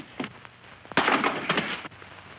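A couple of sharp gunshot bursts crack out in an old western TV show, one strong blast near the middle followed by a second, amid muffled scuffling.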